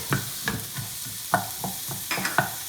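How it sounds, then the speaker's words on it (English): Onions frying in a hot pan, stirred with steady sizzling underneath, a series of scraping strokes at a regular rhythm, close and moderately loud. "I'll be adding this onions and I'll be frying it till it turns into a golden brown color."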